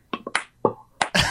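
Several quick, sharp finger snaps with mouth clicks and tongue pops in an irregular rhythm, close and dry, performed as a human-made rhythmic pattern.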